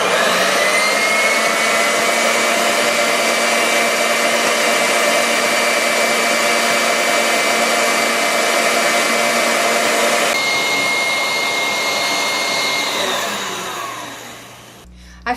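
Electric mixer whisking meringue as sugar goes in, a steady high motor whine that runs loud and continuous, shifts pitch slightly partway through, then winds down and stops near the end.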